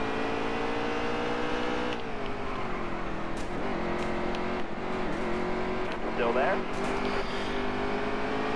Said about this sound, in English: We have a 20 car pile up at Bristol.